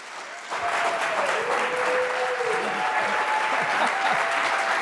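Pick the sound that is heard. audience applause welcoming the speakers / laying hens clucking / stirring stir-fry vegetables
audience applause welcoming the speakers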